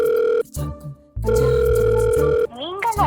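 Telephone call tone with a steady tonal hum broken by short gaps, repeating in sustained bursts at close range and loud, with no talking over it.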